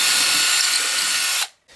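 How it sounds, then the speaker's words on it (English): A drill driver fitted with a spiral bit whines steadily and loudly up close as it bores a hole, then stops abruptly and starts again for a moment. "So I've got my drill driver here with a spiral bit."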